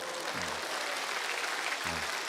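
Church congregation applauding during a sermon, a continuous broad patter of clapping filling the hall, with a couple of brief low voice fragments surfacing over it.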